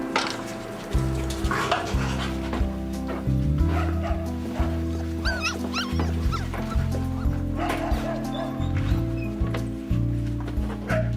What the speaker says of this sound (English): Dog rescuer Mike Malloy is the welcoming committee for a street dog and her 8 pups